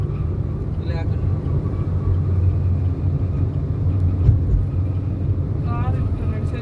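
A car on the move: a continuous low engine and road rumble from inside the vehicle, steady from start to finish, with faint voices now and then.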